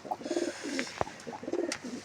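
Pigeons cooing inside a loft: soft, rounded coos repeat in two bursts close to the microphone, with a few sharper chirps and clicks between them and no talking.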